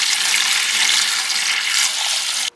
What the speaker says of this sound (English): So here goes the first gallon.